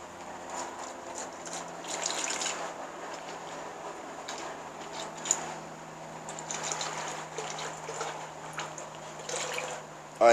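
Melted tallow trickles and splashes softly into a candle mold, a faint continuous pour with small irregular spatters and drips over a low background hum.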